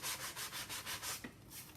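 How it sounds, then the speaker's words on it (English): A sanding block rubbing across card on a glass craft mat, making a quick series of dry, scratchy back-and-forth strokes close up and fairly quiet, with no voices. "she's sanding on her glass mat"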